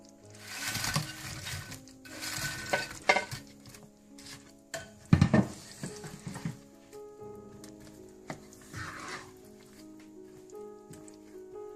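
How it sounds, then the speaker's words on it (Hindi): Pakoras being stirred into curry gravy in a cooking pot, with intermittent scraping and clinking of a spoon against the pot in irregular bursts, fairly close and moderately loud, with pauses between strokes. "अब ये सारे पकोड़े मैं इस ग्रेवी में मिला लूंगी।"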